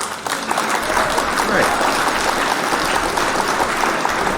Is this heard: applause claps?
yes